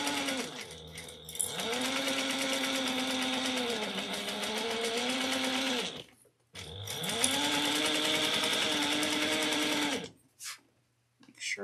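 A sewing machine stitches at a 3.5 stitch length, whirring loud and close in two long runs separated by a brief pause, then stopping near the end.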